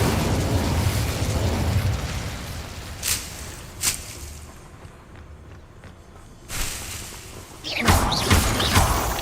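Fire spell Incendio cast in the video game Hogwarts Legacy: several short whooshing bursts and pops, two brief flares early, then a louder, longer blast of crackling flame near the end, set over a low game ambience.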